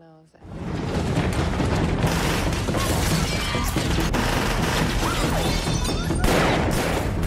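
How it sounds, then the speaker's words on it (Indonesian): A gunfight in an action heist film: a dense, loud, continuous roar of rapid gunfire and crashes that starts abruptly and stays near-constant, mixed with the film's soundtrack. "Dan tiba-tiba terjadi baku tembak."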